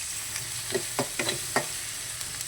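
Onion frying in hot oil in a pan until it changes colour, a soft continuous sizzle punctuated by several quick stirring scrapes and clicks, close and fairly quiet.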